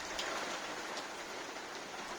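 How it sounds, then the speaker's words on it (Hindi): Heavy monsoon rain falls in a continuous, dense hiss, close and steady with no breaks, and no voices over it. "धूम मचा रखी है अभी बारिश की।"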